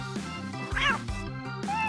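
A cartoon cat meows once in a Toca Boca video game, a short rising and falling cry over steady upbeat background music, with a brief bright tone near the end.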